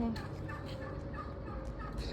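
Turkeys gobble in a hotel courtyard alongside peacocks and guinea fowl, a rapid burst of gobbling calls repeating over a steady outdoor background at moderate distance.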